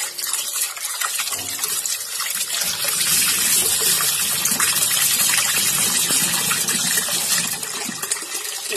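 Rice and lentils being washed in water for idli batter, a continuous splashing, trickling rush of water with occasional swishes, close by and steady with no talking.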